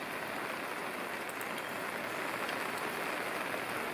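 Steady, dense rain patters on an umbrella along the Appalachian Trail, a close continuous hiss with no pauses and no voices.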